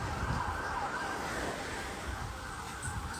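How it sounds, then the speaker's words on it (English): A steady wail of sirens fills the air, continuous and fairly loud over a low rumble of traffic, with no voices. "Sirens is going off."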